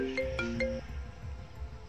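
A mobile phone ringtone plays a short melodic phrase of three or four bright tones over faint background noise, then stops, leaving a quiet room ambience.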